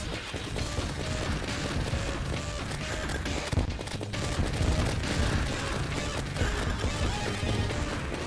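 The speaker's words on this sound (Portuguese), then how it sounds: "Olha os tiros ali." Rapid bursts of gunfire from Vortex weapons in the game Terraria, a dense and steady barrage of cracks and impacts that continues loudly through the whole stretch with no talk.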